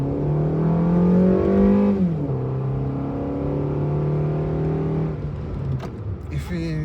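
A 2025 Suzuki Fronx engine revs roughly from inside the cabin, its droning note holding high, dropping sharply, then settling into a steady rumble before easing off near the end.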